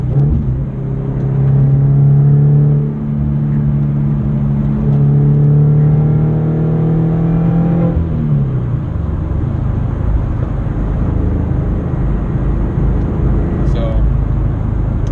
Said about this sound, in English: This is a car at interstate speeds, cruising 70 miles an hour, and there's more or less no drone.